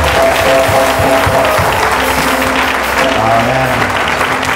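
A church congregation claps and cheers steadily throughout, a dense continuous wave of applause filling the hall with faint voices mixed in.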